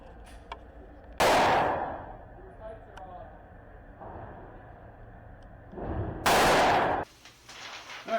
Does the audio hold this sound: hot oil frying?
no